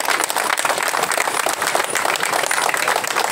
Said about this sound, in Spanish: les brindamos un fuerte aplauso a esas tres personas que se nos fueron el día 8